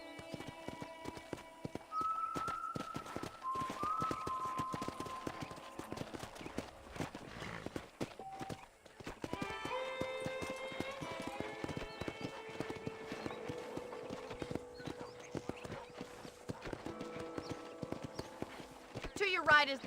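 Horse hooves clip-clop steadily across a ranch in the video game Red Dead Redemption, moderately close and mixed with game music and a spoken voice, with occasional snorts from the horse.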